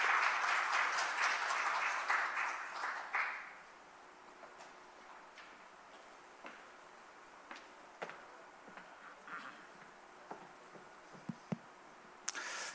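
Audience applause welcoming the head of the Seoul Institute to the stage at a conference on the pandemic and East Asia, loud and steady for about three seconds, then cutting off into quiet room tone with scattered faint ticks and taps.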